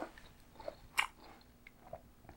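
Someone bites into a crisp apple and chews it, giving quiet wet crunches with one sharp bite standing out midway, close up and with no talking.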